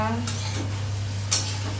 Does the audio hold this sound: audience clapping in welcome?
no